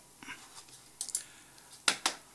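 Computer keyboard keys tapped to enter a number while modelling a spur gear in CAD software: about eight light, crisp clicks in small uneven bursts, close and fairly quiet, with no talking.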